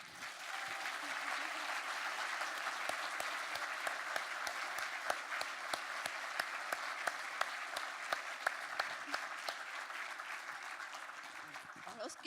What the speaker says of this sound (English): So have a big clap to say thank you.